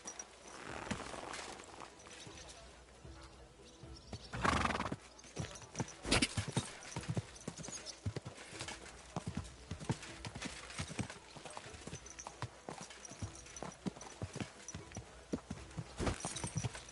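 Horse hooves clip-clop at an uneven walking pace in the video game Kingdom Come: Deliverance 2, close and steady, with a few sharper stamps and a brief horse snort.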